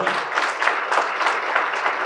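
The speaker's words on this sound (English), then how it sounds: "Big round of applause for what Sir Randhir does." A crowd at a farewell party for India's Consul General in New York bursts into dense, sustained applause, a steady, fairly loud wash of overlapping clapping with no gaps.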